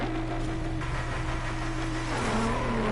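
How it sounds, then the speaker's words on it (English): An all-wheel-drive car's engine in the racing video game Driveclub drones loudly and steadily with a throaty, gnarly tone. The pitch shifts slightly near the end as it revs, heard on its own with no talk. "That engine sounds really good."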